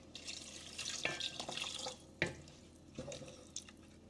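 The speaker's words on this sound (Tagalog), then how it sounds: "Lagyan natin ng tubig." Water runs and splashes into a cooking pot of mung beans, with drips and a few louder sloshes, no talking.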